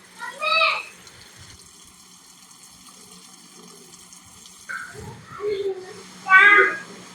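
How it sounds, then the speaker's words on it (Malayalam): Strawberries being washed for a cake under a running tap: a faint, steady hiss of water in the middle, with a person talking before and after. "ഇനി നമുക്ക് കേക്കിന് ആവശ്യമായിട്ടുള്ള സ്ട്രോബെറീസ് എടുത്ത് നല്ലപോലെ ഒന്ന് കഴുകി വൃത്തിയാക്കി എടുക്കാം."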